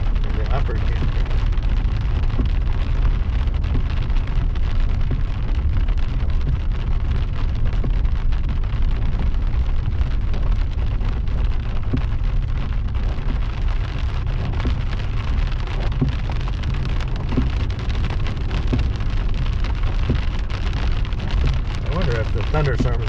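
Rain from a thunderstorm at a campground near the Green River in Flaming Gorge National Recreation Area pours in a loud, dense, unbroken wash, steady for the whole stretch with no clear thunder claps.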